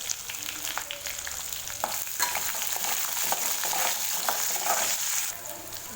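Sliced large onion sizzling in hot oil in a pan for tomato rice, a steady close frying hiss with occasional stirring scrapes and soft pops throughout.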